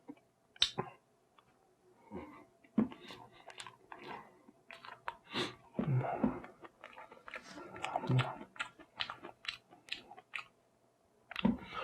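Close, quiet chewing of a buttercream-frosted Christmas cake, with soft wet bites and crunchy clicks in irregular bursts and brief pauses between mouthfuls.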